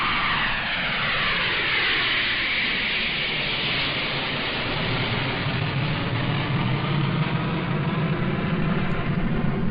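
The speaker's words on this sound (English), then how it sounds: "the engines rev up," Airplane engines roar loud and steady as the plane powers up for takeoff, a continuous rumble with rising and falling whine that fills the whole stretch with no voices.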